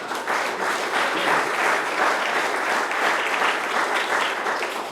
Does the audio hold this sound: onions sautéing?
no